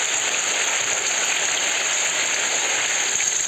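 Heavy rain pours down steadily, a dense, even hiss of drops close by that does not let up, with no voices.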